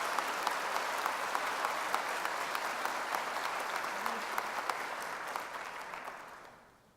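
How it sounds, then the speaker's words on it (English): At a graduation ceremony, a standing audience gives a sustained round of applause, steady and full-bodied, fading out near the end. "would you please stand and give them a round of applause?"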